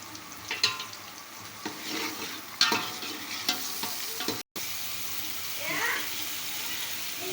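Onions frying in cooking oil for chicken macaroni, a sizzling hiss with several scraping stirs and clatters and one brief dropout.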